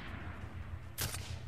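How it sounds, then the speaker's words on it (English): A single sniper rifle shot in Medal of Honor: Warfighter hardcore mode cracks out sharply about a second in, a short loud report over a steady low battlefield rumble. "Pretty badass sounding sniper here."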